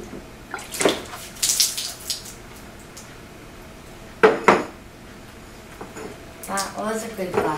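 Water splashes and a glass clatters on a hard surface, followed by dripping and trickling sounds, with brief bursts of talk and clinks in between.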